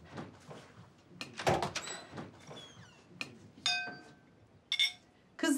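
A door is opened inside a home, with a series of knocks, clicks and light clinks spread over several seconds at moderate, close-range loudness.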